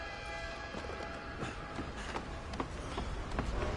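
An approaching train rumbles and clatters in the open-world western game Red Dead Redemption 2, a steady dense roar with rhythmic rail clicks building slightly, no talk over it.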